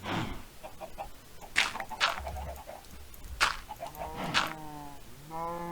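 Dogs in the Minecraft video game whimpering and panting, with short whines and breathy pants in brief bursts, ending in rising whimpers, moderately close, with no talk.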